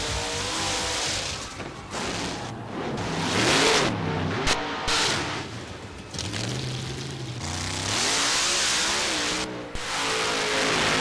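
A mud-racing Jeep with a 605 cubic inch V8 mountain motor making 1,900 horsepower on nitrous revs loud and close, its roar rising and falling in long sweeps that rarely let up.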